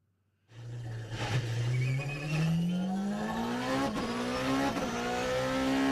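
A Porsche 919 Turbo race car engine roars in from silence, loud and close, and its pitch climbs steadily as it accelerates hard, with a brief shift-like dip partway through.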